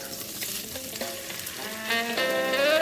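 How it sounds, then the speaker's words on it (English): Green seasoning hisses and sizzles as it fries in olive oil in a pan, a close, steady crackle with faint tonal ringing from the kitchen in the background. "What I'm putting here is olive oil, a little bit of olive oil. I'm now going to come in with my green seasoning"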